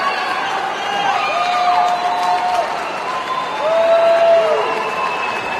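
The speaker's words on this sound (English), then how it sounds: "That's the crowd who's here in attendance, making some noise for her." Crowd at a boxing arena makes a sustained roar of cheering and scattered applause, with whistles rising and falling throughout, heard at a distance and fairly loud.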